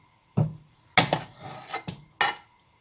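A metal frying pan handled on a stovetop: a few sharp clanks and scrapes, close and isolated, with brief rubbing between hits.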